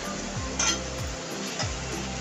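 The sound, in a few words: onion-tomato paste added to a kadhai and stirred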